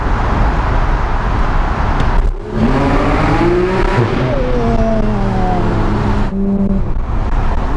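A Porsche 991 GT3 sports car engine revs hard in Paris street traffic, loud and close, with a brief dip in throttle before climbing again through rising high-pitched wails and crackling roar.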